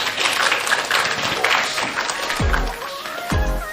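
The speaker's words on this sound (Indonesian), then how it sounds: "Tepuk tangan untuk beliau semua." Audience clapping at a university anniversary seminar hall in Kuningan, moderate and steady at first, giving way to a couple of low thuds and a brief voice near the end.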